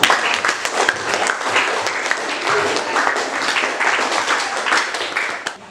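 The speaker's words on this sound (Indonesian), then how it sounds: "Beri aplaus, tepuk tangan untuk" Students in a classroom applaud and clap together in a dense, steady burst that stays loud throughout and fades near the end.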